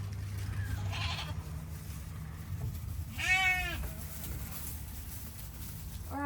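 A milking goat gives one clear wavering bleat midway, with a fainter call near the start and another at the end, over steady outdoor background noise.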